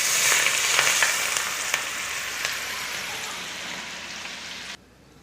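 Very hot, smoking oil is poured over a mango pickle mixture, giving a loud, close, crackling sizzle that fades slightly and then cuts off abruptly near the end.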